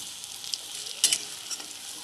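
Raw banana kofta balls fry in hot oil, a soft continuous sizzle close by with a brief louder crackle in the middle, heard alone without talk.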